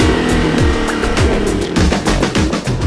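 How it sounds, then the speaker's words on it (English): A Dodge Viper engine revved hard to redline on a factory test stand, loud repeated surging roars with rapid rising pitch sweeps, close and dominant with no voices. "The team pushes the engine to redline, individually testing each Viper engine"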